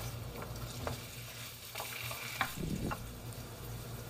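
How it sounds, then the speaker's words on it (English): Carrots fry in a pan with a steady, soft sizzle, and a few clinks and scrapes of stirring break through close by at a low level. "I am going to be frying the carrots first because they take a little longer to get cooked"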